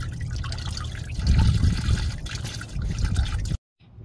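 Engine coolant draining from a Saturn Sky, a steady liquid trickle and splash into a catch container that swells slightly midway, then cuts off abruptly near the end.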